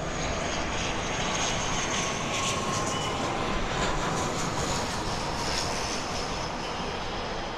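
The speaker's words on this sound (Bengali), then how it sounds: "নভো এয়ারের বিমান এগিয়ে আসছে" A Novo Air ATR small passenger airplane nearing the runway at an Uttara landing spot in Dhaka, a loud, steady engine roar that fills the scene without letup.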